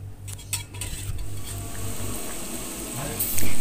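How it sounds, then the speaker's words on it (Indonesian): Chicken broth with spices being stirred in a wok, a spoon clinking and scraping against the metal under a low, steady bubbling hiss, close and moderate in volume. "Kita aduk rata dulu."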